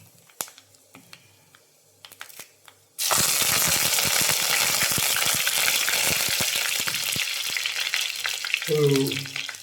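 After a few quiet clicks, curry leaves hit hot oil with popped mustard seeds and burst into a loud, continuous sizzle that crackles on steadily.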